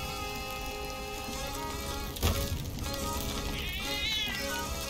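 A cat meows in the pirate video game Sea of Thieves, rising and wavering near the end over a steady, dense background of rain-like game noise, with a brief thump midway.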